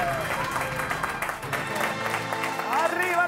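Studio audience applauding on a Spanish TV show, a continuous wash of clapping with music-like tones layered in, fairly loud and sustained across the moment.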